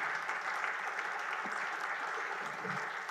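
Applause for a dedicated father during a public council session of a disability support association, a dense, even round of clapping from a roomful of people, moderately loud and continuous.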